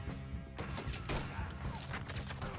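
Gunfight in Red Dead Redemption 2, with dense, overlapping gunshots and rapid volleys crackling at moderate distance throughout, faint in level overall.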